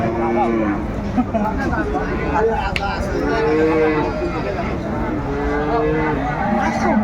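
Dairy cows with calves mooing repeatedly in long, drawn-out calls, fairly close, over a steady background of murmuring voices at a cattle market.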